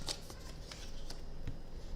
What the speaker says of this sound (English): I think I shuffled these cards enough.